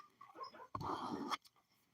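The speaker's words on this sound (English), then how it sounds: "my dog is dreaming so loud that he's like, whoop, whoop, whoop" A sleeping dog whimpers while dreaming, giving a couple of soft, muffled yelps and whines, the middle one louder and longer, heard close in an otherwise quiet room.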